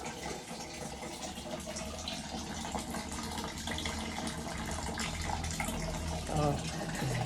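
Water runs continuously into a container, a steady splashing rush with a brief gurgle near the end.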